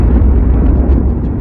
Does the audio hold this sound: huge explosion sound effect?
yes